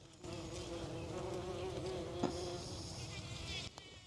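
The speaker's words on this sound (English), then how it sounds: "Can you hear the bees?" Bees buzz around honeywort (Cerinthe) flowers in a summer garden, a steady close droning hum that holds for several seconds before cutting off, with no talk over it.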